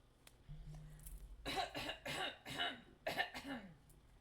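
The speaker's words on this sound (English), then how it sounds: "I actually had to cough." A series of five or six close, sharp coughs in quick succession from a character in the game Boy, Please! Hydrangea, after a brief low tone, with no talking.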